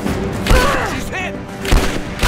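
Gunfire in Rise of the Tomb Raider, a dense volley of shots and booms layered with in-game effects and a voice, loud and close with heavier thuds at the start and end of the burst.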